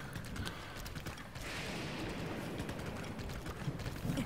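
Horse hooves gallop in Zelda: Breath of the Wild, a steady run of clip-clop beats held at an even, moderately close level with no voices.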